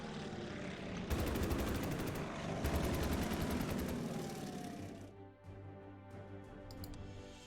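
Gunfire from a unit attacking in the strategy game Order of Battle: rapid machine-gun bursts mixed with aircraft-like engine noise, then a quieter stretch with a few scattered sounds.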